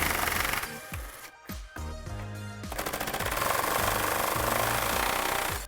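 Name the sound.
removing 10mm airbox bolts on a Jeep Wrangler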